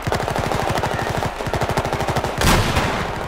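Rapid automatic gunfire from a Battlefield 4 match, loud, fast bursts with brief pauses and a heavier blast near the end.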